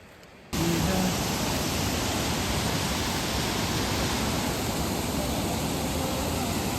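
The Tengro Khola mountain river in Nepal's Ruby Valley roars loudly and continuously, a dense rushing wash of water that starts abruptly and fills everything.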